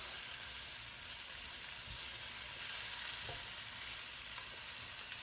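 Spinach and tomatoes hit a hot hash pan in a vegetable hash, letting off a constant broad sizzle with a few soft stirring knocks underneath, faint and even throughout, with no voices.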